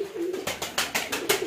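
Russian pigeons coo softly in repeated low throaty calls, with a few sharp rustling bursts between them, close by.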